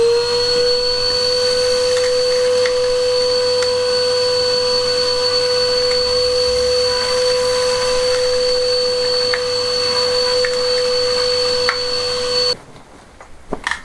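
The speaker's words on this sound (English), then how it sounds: "So I'll get Henry out, give it a good vacuum." A Henry vacuum cleaner runs close by with a loud, steady motor whine and a constant tonal hum, then cuts off abruptly near the end, leaving quiet.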